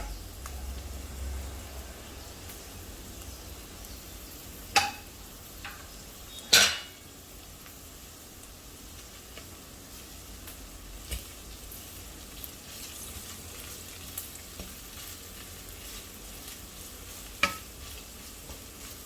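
Dried shrimp paste and curry leaves fry in a pan for a prawn curry, a steady soft sizzle running throughout, with a few sharp scrapes and clinks of a utensil against the pan as it is stirred.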